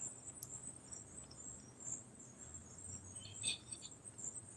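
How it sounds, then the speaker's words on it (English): Faint, high, continuous chirping of crickets carries on against quiet outdoor background, with a few brief brighter trills. "Why the crickets out or whatever the things are this early, I don't know."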